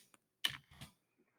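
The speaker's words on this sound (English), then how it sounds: "I'm going to type that in." A few soft keystrokes on a computer keyboard tap out an answer, quiet and close, in a short cluster of clicks.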